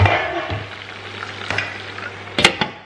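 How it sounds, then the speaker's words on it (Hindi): Five tomatoes cooking in a pan for a balti gosht, with a continuous close sizzle broken by a few sharp stirring scrapes and clatters, the loudest near the end. "Now I'm gonna place 5 tomatoes in the same pan and cook for another 5 minutes"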